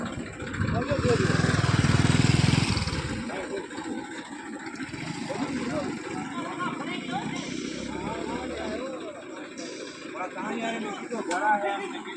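A tractor engine drones and revs while pulling a stuck vehicle outdoors, loud and close, with a strong low rumble that rises early on and then steadies, as several people talk and shout over it.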